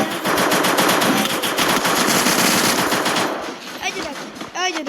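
Rapid automatic gunfire from a shooting video game, loud and dense for about three seconds, then thinning out into scattered shots and game effects.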